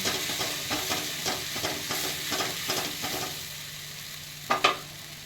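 Ground spices such as coriander, cumin and fenugreek frying in a pan for a vegetarian aloo dum, with a soft continuous sizzle and repeated spatula scrapes, close by, ending in a couple of sharper knocks.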